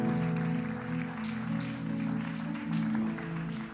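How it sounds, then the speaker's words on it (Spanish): Church congregation applauds during a service, soft continuous clapping under sustained organ or keyboard tones that hold throughout. "Denle un aplauso al Señor"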